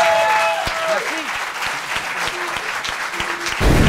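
An audience claps for a guest named Tex on a French interview show, a steady crowd applause running throughout, while speech and sung tones sit over it and a louder burst returns near the end.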